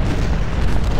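Cannon artillery fire in the Civil War strategy game Ultimate General: Civil War, Battle of Chancellorsville, a loud sustained rumbling boom filling the whole short moment with no talk over it.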